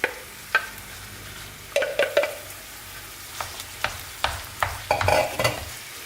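Ground chicken breast cooking with fried onions in a pan, a quiet sizzle under repeated sharp scrapes and taps of a ladle stirring, close and irregular, with no talk.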